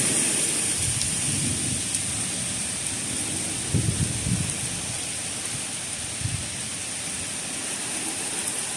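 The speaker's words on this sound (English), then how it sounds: "It's a pop-up thunderstorm." A pop-up thunderstorm pours heavy rain in a steady, dense hiss, with a few low rumbles of thunder rolling through and some wind, and no talking.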